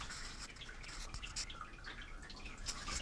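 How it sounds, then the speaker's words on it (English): Oil dripping inside a rock saw after cutting, a dense, steady patter of many small drips and splashes heard up close and fairly quiet. "That is all of the oil dripping."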